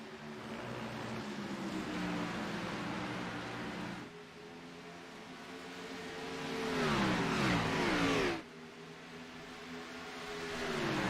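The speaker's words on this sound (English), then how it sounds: "as Spencer Ray is holding all four of these cars up" Race cars lap Watkins Glen in a racing video game, with a continuous engine drone whose pitch climbs and falls as the cars rev and shift. No one talks.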